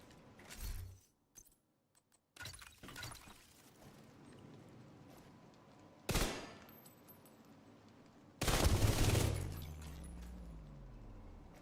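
Large SMG with a spinning laser pointer firing in The Division 2, several loud bursts with brief pauses between them, heard alone with no talk.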